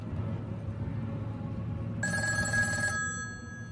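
A telephone bell starts ringing partway through, a bright, steady electronic ring lasting about a second over a low background hum, then fading out.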